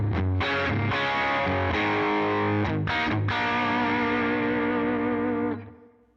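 An electric guitar plays through a Line 6 Helix preset with the Helix cab on and overdrive engaged, strummed chords ringing out in a few bursts with a crunchy, saturated tone before the last chord fades away.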